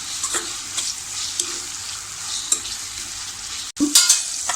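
Tomatoes and onions sizzle and are stirred in a hot pan for a chicken lapeta dish, with steady frying hiss broken by occasional spatula scrapes and a brief pause before a louder stir.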